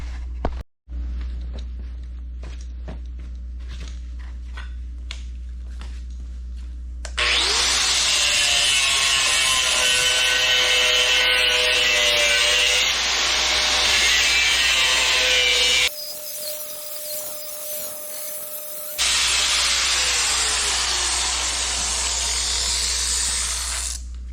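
A Metabo power tool cutting aluminum during a Jeep TJ V8 swap, a loud harsh grinding whine in two long bursts with a short quieter gap between them, and no talking.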